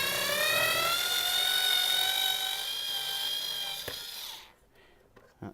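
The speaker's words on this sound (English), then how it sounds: "I've got this lovely Black & Decker screwdriver" A Black & Decker battery screwdriver running on AAA cells whines steadily with a bright harmonic tone while unscrewing a motorcycle dash screw on a Honda VFR800, then stops, leaving quiet handling noises.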